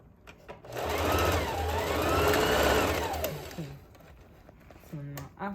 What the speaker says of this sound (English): So I'm just going to sew it out.